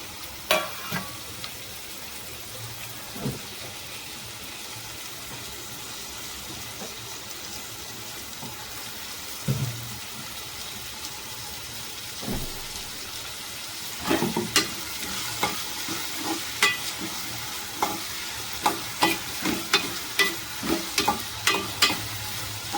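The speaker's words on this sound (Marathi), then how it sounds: "आता ह्याच्यामध्ये आपण जो कापलेला होता तो टोमॅटो टाकायचा." Chopped tomatoes go into a hot frying pan for a prawn curry and are stirred, giving a steady low sizzle with scattered spoon scrapes and clatters that grow busier and more rhythmic toward the end; no one speaks.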